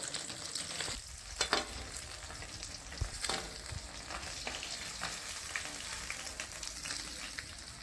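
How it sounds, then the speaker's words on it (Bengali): Marinated rohu fish pieces fry in very hot oil over a high flame, giving a steady, close sizzle dotted with sharp crackles and pops, with no voices. "অন্য পিঠ ভালো করে ভেজে নিতে হবে।"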